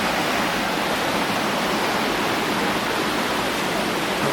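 Waterfall near a forested hillside temple, swollen after two days of rain, roaring steadily as a dense, unbroken wash of rushing water close by, with no voices.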